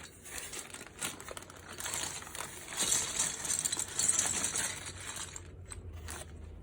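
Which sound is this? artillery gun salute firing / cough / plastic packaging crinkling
plastic packaging crinkling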